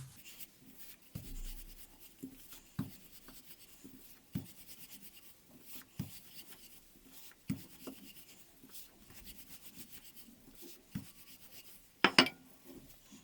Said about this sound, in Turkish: Daha sonra şöyle merdanemle çok hafif açacağım bunları.